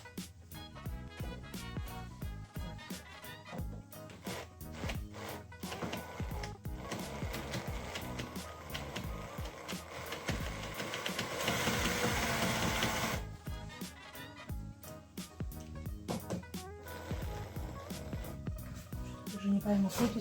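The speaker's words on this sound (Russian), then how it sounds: "Беру свою старую шуруповерт, которая у меня не совсем справная." An old, somewhat faulty cordless screwdriver whirs in rapid bursts, with a sustained louder run near the middle, close and fairly loud.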